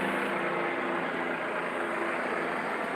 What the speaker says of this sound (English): Cop helicopter. Check that out.